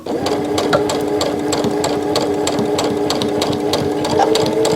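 A sewing machine stitching fabric for a face mask runs steadily and close up, its rapid needle strokes making a fast even rattle with no voices.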